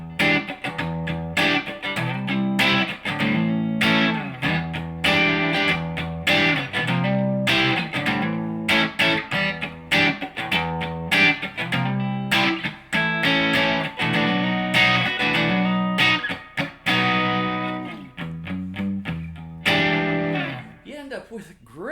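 Electric guitar played through a Peavey Invective MH amp with reverb, gain rolled back for a soft blues and light rock tone, a steady run of strummed chords and picked notes ringing out loud and alone for the whole stretch.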